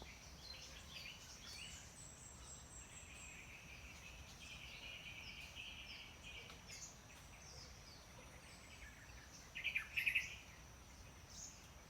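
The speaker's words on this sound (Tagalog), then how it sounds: "Ibon." Birds call in a forest, thin high chirps sitting over a steady hiss of insects and ambient noise, with a brief, louder burst of chirping near the end, distant and faint, with no talking.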